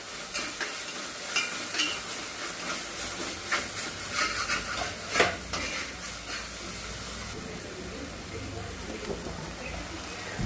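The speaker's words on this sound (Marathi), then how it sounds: "मसाला आता खूप छान परतवला गेलेला आहे आपला" Masala for a drumstick and potato curry sizzles and fries in a pan while being stirred, with bright crackling hiss and repeated scraping strokes of the spoon, continuous and close.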